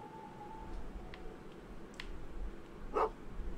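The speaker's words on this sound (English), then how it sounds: "Yes, good dog." A dog in a video game gives a short, soft bark or yip over faint ambient background, preceded by a few small clicks and a thin tone; distant and quiet, with no voices.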